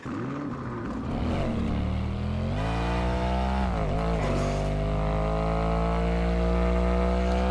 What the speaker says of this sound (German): das Auto ist ein bisschen zu laut